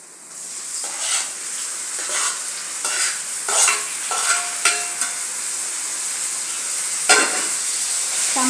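Onions, tomatoes and green chillies fry in a pan while a spoon stirs them in repeated scraping strokes over a steady, loud sizzle, close up and without any talking.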